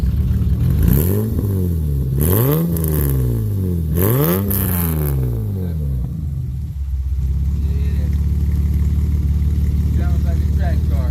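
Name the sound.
custom 1989 BMW 325i E30 engine revving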